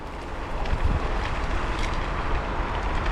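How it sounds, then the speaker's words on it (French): Steady, rough wind buffets the microphone on a Navee V40 Pro electric scooter riding at about 25 km/h, with a continuous low roar, no voices present. "Malgré qu'il y a du vent, il n'y a pas de problème."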